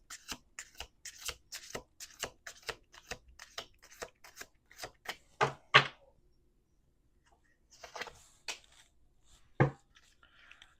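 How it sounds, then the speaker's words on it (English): Tarot cards being shuffled by hand in a quiet room, a quick series of crisp riffling snaps followed by a pause and a few sparse, sharper slaps of the deck. "Let's do one more shuffle."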